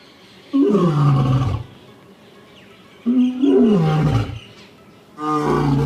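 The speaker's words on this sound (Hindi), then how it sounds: "एक शेर की दहाड़ सबसे बड़ी होती है" A lion roars three times in deep, powerful bursts separated by short pauses, loud and close with no other sounds.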